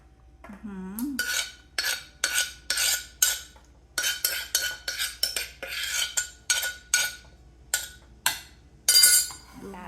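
A spoon scoops Thai papaya salad onto a plate, making a rapid series of scraping strokes and metallic clinks against the dish, fairly close and loud, with no talking over it.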